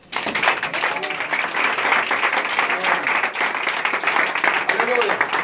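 A church congregation claps and applauds the Lord in a sustained, even wave of hand claps, with voices calling out underneath throughout.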